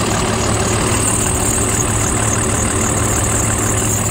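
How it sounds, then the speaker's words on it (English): Ford F650 truck with a Cummins diesel idling with a damaged belt, a loud, steady, close rumble with a constant mechanical whine and no speech. "Let it idle for a while with that belt."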